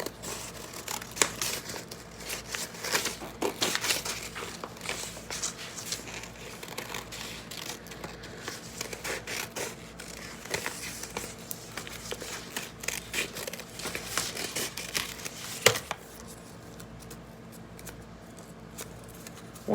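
Scissors cutting a white paper foot shape out of a sheet, a steady run of close crinkly snips and paper rustles that carries on for most of the stretch, then quiets near the end.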